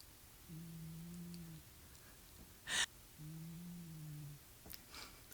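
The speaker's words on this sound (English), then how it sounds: "I don't know if the mic's picking that up, but Wednesday is snoring." A cat snoring indoors: two drawn-out, droning snores a few seconds apart, faint and close, with a brief rustle between them.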